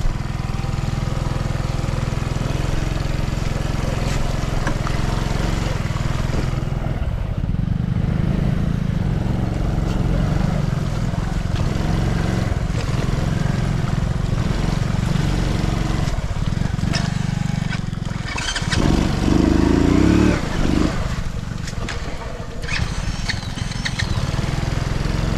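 A motorcycle pushes through deep floodwater, its engine droning loudly and steadily throughout with shifting splashy churning and a few surges in the low rumble, no voice on top.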